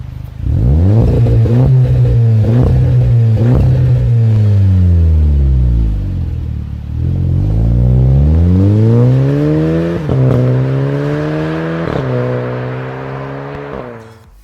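Car with a Friedrich Motorsport cutback exhaust revs up close and loud, engine pitch sweeping up and down in two long pulls before settling into a rumbling idle with a few sharp blips.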